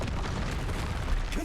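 A fiery Confringo spell blast in Hogwarts Legacy, a loud continuous low rumble with crackling bursts that swells slightly near the end.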